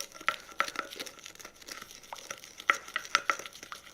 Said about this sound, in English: I'm going to go ahead and just mix it up a little bit